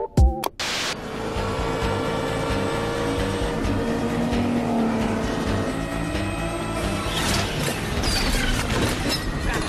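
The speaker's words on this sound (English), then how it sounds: "you have Christian Bale in the GT40 and a 330 P3 being driven next to him at Le Mans on one of the many long straights" A Ford GT40 and Ferrari 330 P3 roar past at high speed on a Le Mans straight, a loud sustained engine drone with shifting pitch and a sharp burst at the start, no voices.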